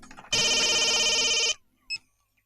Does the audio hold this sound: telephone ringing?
yes